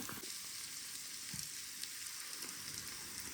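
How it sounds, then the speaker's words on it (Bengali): Onion frying in a small amount of oil in a kadai gives a continuous, soft hissing sizzle with occasional crackles, steady and fairly quiet throughout, with no voices. "তেল কম দেওয়াতে পেঁয়াজটা ভালো মতো ভাজি হইল"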